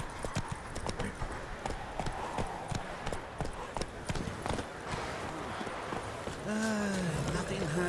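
Horse hooves clop in a quick galloping rhythm in The Witcher 3, close and continuous over faint background ambience, ending with a short whinny-like tonal sound near the end.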